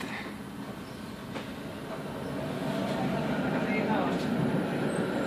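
A tram rumbles past on a newly opened line in Bydgoszcz, Poland, with a steady low roar that swells gradually, with faint clicks and some background voices.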